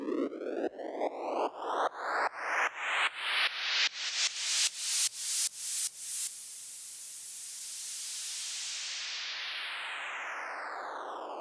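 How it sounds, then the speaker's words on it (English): Two white noise samples from a Massive synth patch with side chain: first a string of rhythmic, pumping sweeps with bright tonal streaks, then a long, steady hiss of swept noise that fades out. "the last section I have here is just two white noise samples"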